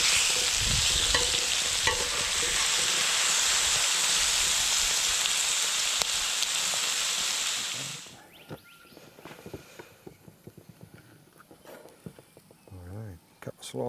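A burger patty sizzles over campfire coals, a loud steady crackling hiss for about eight seconds that then cuts off, followed by quieter clatter and someone speaking.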